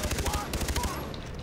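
A big gun fires in the video game Far Cry 3, a rapid loud burst of repeated shots that tails off near the end.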